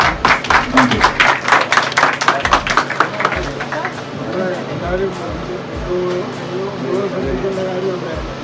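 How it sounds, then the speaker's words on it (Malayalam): Several people clap together in a quick, rhythmic burst at a birthday party, loud and close for a few seconds before fading into background chatter and faint tapping. "എല്ലാരും ഒന്ന് കൈയടിച്ചേ."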